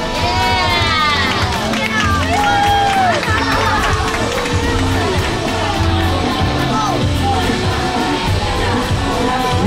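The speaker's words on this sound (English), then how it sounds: "How about a round of applause?" An audience at a Universal Studios Hollywood show claps and cheers, a loud, dense crowd roar with yells and whoops carrying steadily throughout.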